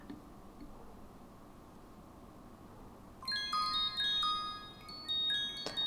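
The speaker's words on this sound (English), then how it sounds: "We need all the ringing sound we can get." Bright, ringing chime tones from a p5.js musical hexagonal Truchet tiles sketch enter after a quiet stretch of low background hiss, playing a quick run of overlapping bell-like notes, fairly faint.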